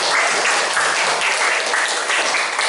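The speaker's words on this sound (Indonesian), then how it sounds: "Silakan tepuk tangan untuk semuanya." Steady applause from a class of children right after a lesson quiz, dense and continuous clapping filling the whole stretch at close range with no talk.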